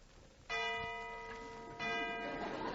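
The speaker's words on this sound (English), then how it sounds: "There's the last bell." A school bell rings in an old radio drama, two sustained metallic rings, the second starting soon after the first fades, loud over a faint background.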